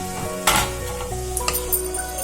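Raisins fry in a pan for rava laddu with a close, steady sizzle, punctuated by a few sharp clinks and scrapes of a utensil stirring against the pan.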